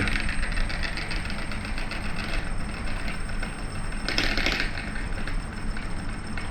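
An electric RC plane motor, wired to an ESC and a 2200 mAh LiPo battery, runs with a fault, giving a steady rattling, clicking buzz that stays loud and even throughout, with a brief brighter burst near the end.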